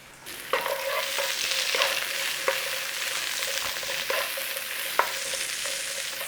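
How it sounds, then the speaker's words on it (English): Onions frying on high flame in a thick wok, a constant loud sizzle punctuated by several sharp scraping clinks as they are stirred. "We're going to start the onions off first. We want a little bit of singe and tinge on there."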